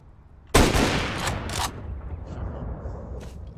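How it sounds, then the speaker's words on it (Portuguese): A flashbang grenade in Counter-Strike: Global Offensive goes off as a sudden loud burst that rings out and fades over a few seconds, with faint game noises after. "flashbang. Flashbang."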